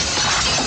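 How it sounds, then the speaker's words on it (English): A ground-floor window shatters in one loud, close, sudden crash of breaking glass, bright and harsh, filling the whole short moment with no voices over it. "break the window on the ground level floor"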